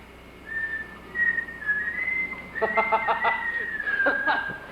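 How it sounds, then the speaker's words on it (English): A 7-year-old child's steady melodic whistle wandering up and down in pitch, played back from a recording with some noisy crackle and faint clucking sounds underneath. "Listen to that kid whistle."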